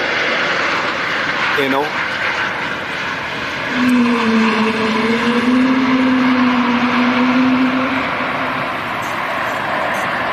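A Dash 8 turboprop aircraft gives a steady moderate engine drone with a rising and falling tonal whine, heard outside at an airport while a person talks over it.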